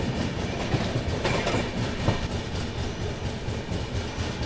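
The Maharashtra Sampark Kranti Express rolls along the rails with a steady dense rumble and rhythmic clickety-clack of wheels over track joints, heard close from on board and without talk.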